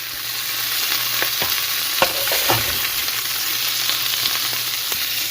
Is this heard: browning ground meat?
yes